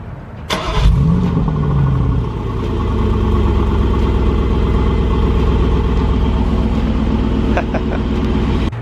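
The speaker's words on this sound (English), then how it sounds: "give you guys a startup exhaust note, and of course on this car the exhausts are on the side" A Mercedes G-Wagon with side-exit exhausts cranks and fires up with a sharp bang, the revs flaring then settling into a deep, loud, steady idle rumble close by, with a faint click near the end.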